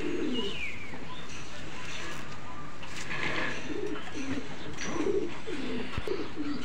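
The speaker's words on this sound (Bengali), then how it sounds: "এটা একটি মাদি কবুতর।" A female pigeon coos in soft, repeated low calls under a steady background hiss, with a few faint chirps mixed in. No one speaks.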